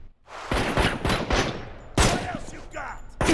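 Gunfire in the Gangstar Vegas open-world crime game during a robbery and arrest standoff: several loud, close bursts of shots in quick clusters, with brief gaps and short ricochet-like tails between volleys, and no talking.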